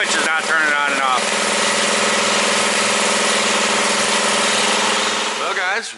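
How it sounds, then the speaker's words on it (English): A newly installed shop air compressor runs steadily and loudly, a dense continuous motor drone with a brief voice near the start and another near the end. "Air compressor's all hooked up, all wired in."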